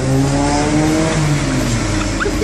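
A 1.5 litre tuned car engine revs loud and close, a steady strained roar holding high revs for a couple of seconds with no talking.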